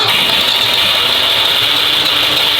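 Citroën Méhari engine running with the choke pulled fully out, a steady close mechanical drone with a hissy upper layer, continuous and unbroken with no voices.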